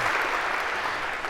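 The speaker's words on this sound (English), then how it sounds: "maybe a round of applause for having choreographed that so perfectly" Brief burst of steady applause from a lecture hall audience, many hands clapping at an even level with no voices.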